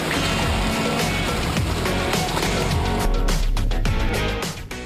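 A Skoda Yeti SUV with a 2-litre 125 kW TDI diesel and permanent all-wheel drive ploughs through a deep puddle, making a loud continuous rush of splashing and spraying water over engine noise, which eases off at the very end.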